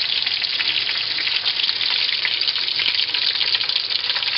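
Breaded cordon bleu fries in hot oil with a dense, continuous crackling sizzle that stays loud and even throughout, with no voices over it.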